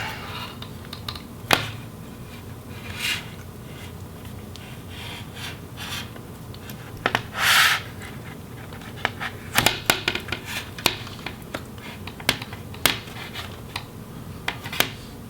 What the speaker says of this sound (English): we can now try to separate the bezel from the back cover